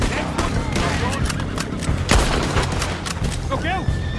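Bolt-action rifle shots crack during a Red Dead Redemption 2 shootout, mixed with other scattered gunfire and several sharp loud reports, while characters shout over the fighting.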